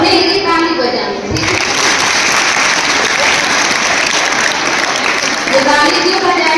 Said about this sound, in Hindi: हाँ, अपने लिए ताली बजानी